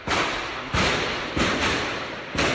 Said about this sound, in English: Police is shooting.